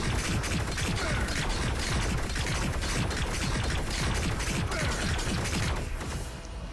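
Laville's first skill in the mobile game RoV lets loose a dense, unbroken barrage of rapid gunfire-like shots, loud and steady for several seconds before easing slightly at the end.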